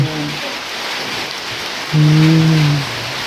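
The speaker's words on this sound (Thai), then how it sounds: "ฝนก็ตกแล้วพี่น้องเลยเนาะ" Steady rain falling outdoors makes a dense, even hiss throughout, with a brief low droning tone rising above it for about a second.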